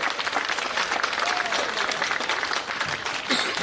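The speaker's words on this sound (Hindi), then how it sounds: "आशा जी के एक बार जोरदार तालियां सब लोग बजा दें।" Sustained audience applause fills a closing ceremony of a youth sports games at an outdoor boat club venue, dense steady clapping throughout with crowd noise and a faint voice underneath.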